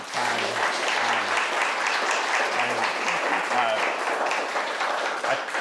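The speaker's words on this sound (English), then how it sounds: "I first want to give you a round of applause for your time." Audience applause at a leadership breakfast, a dense, sustained burst of clapping from a roomful of people, with a few low voices murmuring beneath it.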